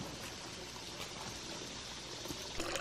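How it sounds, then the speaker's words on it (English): Creek water runs through a pipe and spills into a water tank, a faint, steady rushing trickle heard alone for a few seconds. "And we've got running water for now."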